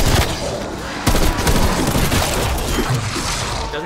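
Gunfire in the Die Machine game, loud repeated shots and blasts crowding together into a continuous barrage of close, harsh bangs.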